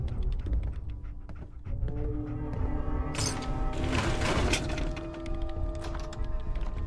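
Dogmeat, the German Shepherd companion in Fallout 4, pants steadily close by over a busy game soundscape with rumbling ambience and scattered clatter, the breathing continuing throughout.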